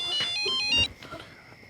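A mobile phone ringtone plays for an incoming call, a bright repeating electronic melody lasting under a second before it cuts off, with faint room sound after.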